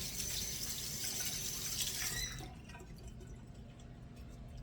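Blueberries rinsed under running tap water, a steady hissing stream for about two seconds that cuts off, leaving faint drips and quiet room sound.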